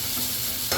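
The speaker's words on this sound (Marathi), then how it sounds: "स्मॅश केलेलं वांगं संपूर्ण मी ह्याच्यामध्ये टाकलेलं आहे आणि सगळं आता व्यवस्थित हलवून घेते" Smashed roasted eggplant stirred in a pan over a medium gas flame for baigan masala, a short steady scraping and sizzling, close and continuous with no voices.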